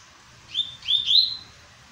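A small double-collared seedeater gives three quick high chirps in a short burst, fairly faint against a quiet background.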